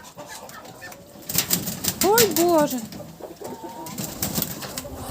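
A white drake moves about a farmyard, giving a short run of hoarse, rising-and-falling quacks with some wing flapping, close by, while a person talks over and around it.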